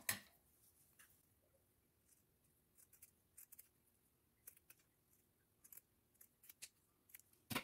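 Scissors snipping a strip off the bottom of cardstock for a corset-shaped pocket, with a series of soft, close, quiet cuts and little clicks in irregular bursts.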